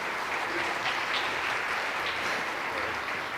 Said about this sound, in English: ask for another round of applause for those fantastic solos.